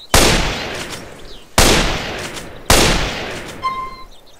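A sniper rifle from a GTA San Andreas weapon mod pack fires three sharp, loud shots at roughly even intervals, each followed by a decaying echo. A fainter fourth report comes at the very end.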